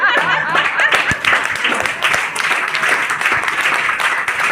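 Audience clapping at a live stage event in Chandigarh, a steady dense wash of applause lasting throughout, loud and close with no pauses.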